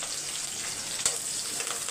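Cumin, mustard seeds, a green chilli and garlic fry in hot oil, giving a close, steady sizzling hiss with a faint pop near the middle and no voices.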